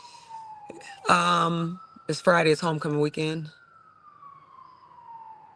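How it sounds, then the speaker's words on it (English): A distant emergency siren wails faintly in a slow falling tone, mostly buried beneath someone talking. "So you hear that, the sirens."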